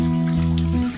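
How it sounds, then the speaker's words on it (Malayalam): Water poured from a cup into a pressure cooker holding taro, a short continuous pouring splash with a tonal gurgle that tapers off at the end. "അപ്പൊ ഞാനൊരു 1 കപ്പ് വെള്ളം ഒഴിച്ചു കൊടുക്കുന്നുണ്ട്."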